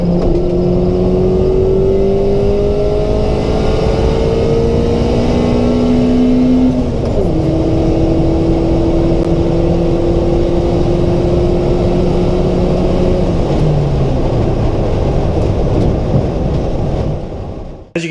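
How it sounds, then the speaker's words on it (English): A car engine with VTEC revs hard under full throttle, its loud, steady roar climbing in pitch and then dropping sharply at a gear change before rising again through a long pull, with no talk. "it definitely pulled a lot harder with the VTEC engaging"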